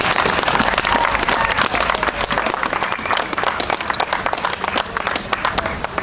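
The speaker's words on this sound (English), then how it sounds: "Can we give them a round of applause?" A crowd at a Veterans Day parade in Northampton claps steadily and loudly, dense applause from many hands sustained throughout.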